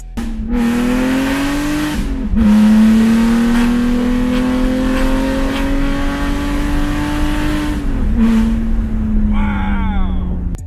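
A supercharged BMW E46 engine revs loud and close, its pitch climbing steadily through long pulls with brief drops at gear changes, ending in a higher whine.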